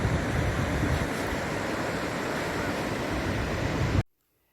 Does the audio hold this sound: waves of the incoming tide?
yes